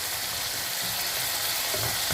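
Cumin, chili powder and turmeric frying in oil in a pan for pickle make a loud, dense, unbroken sizzle heard up close.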